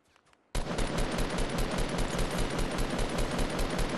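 Sustained rapid automatic fire in a first-person shooter video game, a loud, close, unbroken stream of shots that starts abruptly and continues for several seconds with no talk over it.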